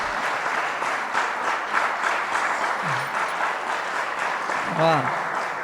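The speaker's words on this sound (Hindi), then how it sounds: "जोरदार तालियों के साथ गजेंद्र भाई का स्वागत।" An audience at a poetry evening applauds steadily to welcome poet Gajendra Solanki, with dense, even clapping and a couple of brief voices calling out over it.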